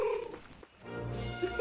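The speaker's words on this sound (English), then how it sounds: "The cat is attacking people." A cat voices a short low growl or purr-like sound, close and fairly loud, with a brief pause midway before it continues.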